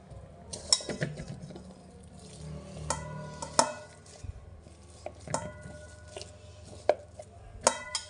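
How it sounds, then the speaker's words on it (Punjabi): Boiled potatoes being mashed by hand in a vessel for capsicum tikki, the work heard as irregular close knocks, clatters and soft squishing thumps with brief pauses between them. "ਅੱਜ ਦੇਸੀ ਤਰੀਕੇ ਨਾਲ ਆਲੂ ਆਪਾਂ ਮਿਕਸ ਕਰਦੇ ਆਂ"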